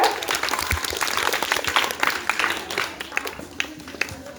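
Audience applause at a 15 August celebration, a steady broadband patter of many hands clapping close by, with a few sharper claps standing out as it continues.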